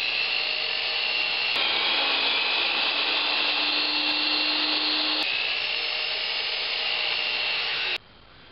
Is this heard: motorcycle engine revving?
no